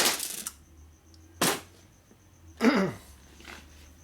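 Diagonal cutters pull a key from the transmission of a 1961 Harley-Davidson XLCH Sportster during a rebuild, giving a few sharp metallic clicks and scrapes spaced about a second apart, close up and with no talking.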